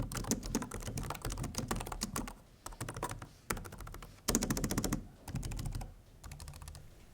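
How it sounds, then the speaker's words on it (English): Rapid clicky keystrokes on a computer keyboard, typed in bursts with brief pauses, close up and without speech. "to give you guys a better idea of what the keyboard sounds like, here's a quick sound test"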